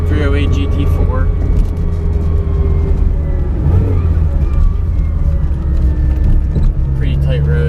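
A Ferrari 308 GT4 engine hums and revs steadily while the car drives along a tight road, a continuous loud drone with shifting pitch and brief swells throughout.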